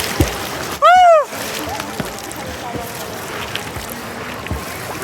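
People swim in a river in Coorg, with scattered soft splashes and water movement over a quiet background, broken by one short loud voiced call.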